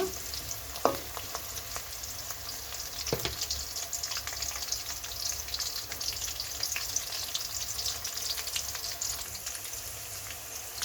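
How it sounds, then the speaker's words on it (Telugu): Curry leaves crackle and fry in hot oil in a pan for masala stuffed eggplant curry, a continuous fine sizzle with a couple of sharper pops and light stirring, no voices. "ఇప్పుడు కరివేపాకు వేస్తున్నాను"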